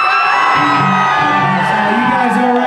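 A concert crowd at the House of Blues in Anaheim screams and cheers loudly and continuously during a rock show, a dense wall of whoops and yells with voices overlapping throughout.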